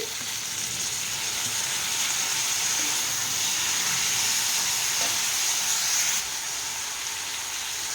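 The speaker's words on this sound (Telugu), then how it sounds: "ఇప్పుడు కరిగి పెట్టుకున్న క్యాబేజీని కూడా వేసేసి" Chopped cabbage frying in a pan alongside beans, a steady close hiss and sizzle with faint stirring scrapes, continuous and without talk.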